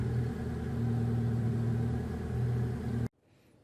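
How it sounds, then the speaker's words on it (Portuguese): A car engine runs at a steady, loud idle rumble with a slight rise in revs, then cuts off abruptly into near silence. "E o carro liga."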